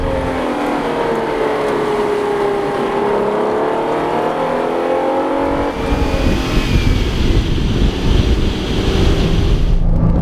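Alfa Romeo Alfetta GTV6 2.5 V6 engine under way, a loud sustained tone sweeping up and down with revs, then a gear change into a rougher, throatier pull, mixed with wind rush and no talking.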